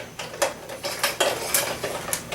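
A metal camping pot and its detachable handle clatter from an emergency kit, with about half a dozen sharp metallic clanks and rattles at an uneven pace, close and fairly loud, with no voices.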